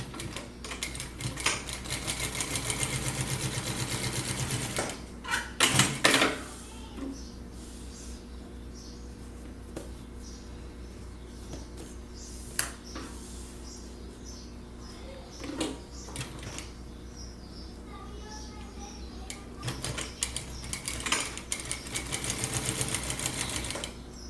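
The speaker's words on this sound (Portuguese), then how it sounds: "Vou passar aqui uma costura e eu vou mostrar para vocês." A sewing machine runs along the edge of an A3, A4 or A5 fabric folder in bursts, the rapid mechanical stitching loud and close, broken by short pauses and handling noises, with no talking.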